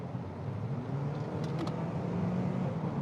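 A car engine revs unevenly under the throttle, a droning hum that wavers and surges, with brief faint higher noises in the middle of the span.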